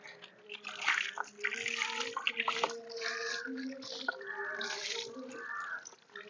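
Water splashing and pouring from a hose onto an animal being bathed close by, running steadily with some talking mixed in.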